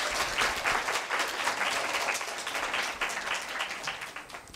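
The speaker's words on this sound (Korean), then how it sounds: "큰 박수 부탁드립니다" A big round of applause at a Korea University middle-school speaking festival as a professor is welcomed to the stage: steady, dense audience clapping throughout, moderately loud, tapering slightly toward the end with little talk.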